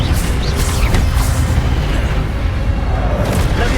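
Incendio fire spell cast in Hogwarts Legacy, a loud roaring blast with booming, rumbling bursts that fill the whole stretch without pause.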